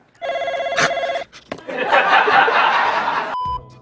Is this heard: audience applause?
no